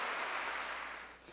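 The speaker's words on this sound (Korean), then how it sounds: "박수로 하나님께 영광 돌려서." A church congregation bursts into applause, a dense, close wash of many hands clapping together that fades slightly over a short stretch.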